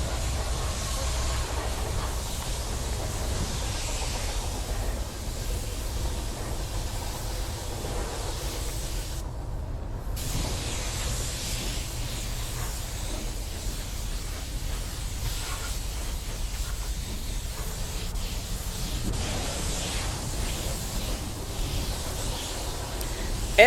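Spray gun laying a metallic silver color coat onto a car bumper, a steady continuous hiss that runs on throughout, fairly close and even in level, with one short pause partway through.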